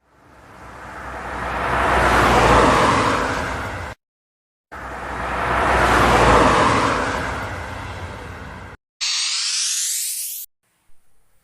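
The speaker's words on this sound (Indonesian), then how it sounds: "mobil sedan," A sedan car passes by twice, each pass swelling from quiet to a loud whooshing rush and fading, followed by a short bright rising sweep.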